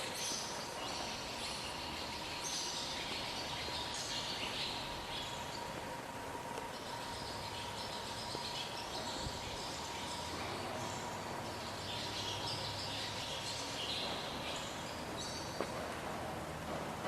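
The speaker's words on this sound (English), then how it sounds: "Do you hear the birds?" Birds chirp outdoors around the grounds of a cannabis company, steady high twittering spread across the whole stretch over a constant background hum, with no talking.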